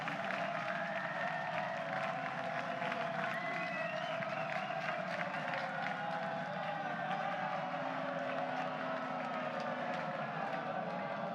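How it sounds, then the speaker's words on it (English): College baseball crowd at the Oklahoma vs. UConn Norman Regional final, a steady roar of cheering and clapping across the stands, with an announcer talking over it. "Crowd into it here."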